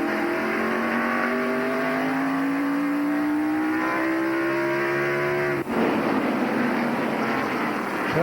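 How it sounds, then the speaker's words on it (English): Stock cars race in a pack at the 1993 Goody's 500, including a red Chevrolet: a loud, sustained engine roar whose pitch climbs steadily as the cars accelerate, then breaks abruptly near the end before the drone resumes. "as he tries to follow Earnhardt up through this pack of cars"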